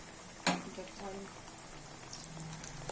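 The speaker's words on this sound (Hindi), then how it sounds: "आलू को उठा के ना बेसन में डिप करके ऑयल में डालना है" Potato pakoras coated in gram flour batter dropping into hot oil, a soft sizzle and bubbling frying sound with a brief splash, faint and close, while someone talks over it.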